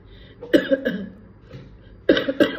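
Two bursts of harsh coughing, close and loud, each a quick series of rough hacks separated by a quiet pause.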